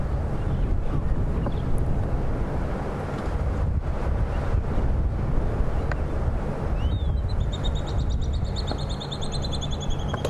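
Strong wind roars and buffets steadily throughout on an afternoon safari drive, with thin high whistling calls rising over it near the end.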